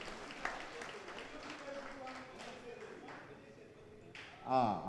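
Audience clapping in a hall after thanks to the organisers, a moderate patter of applause that tapers off before a short burst of other noise at the end.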